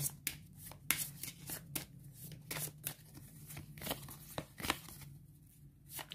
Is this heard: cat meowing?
no